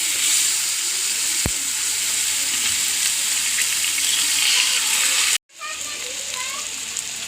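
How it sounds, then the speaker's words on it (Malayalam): Steady, loud sizzling of fish frying in hot oil in a pan, a continuous crackling hiss with a brief dropout near the end. "അപ്പോൾ ചട്ടി വെച്ചു എണ്ണ ഒഴിക്കണം. അപ്പോൾ എണ്ണ കാഞ്ഞു. മീൻ വറുക്കാറുണ്ട്."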